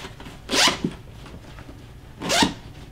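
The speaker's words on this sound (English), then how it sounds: "by 2 zippers that run down the sides" A zipper running down the side of a Mystery Ranch Treehouse 38 backpack, heard as two separate close, brisk zips about two seconds apart with quiet handling in between.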